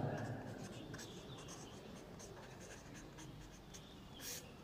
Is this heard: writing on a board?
yes